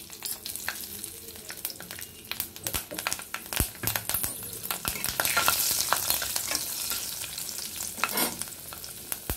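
Green and dried chillies with nigella seeds spitting and crackling in hot oil over a low flame for a Bengali cashew paneer in mustard sauce, with a steady sizzle broken by sharp pops and stirring scrapes, close and without talk.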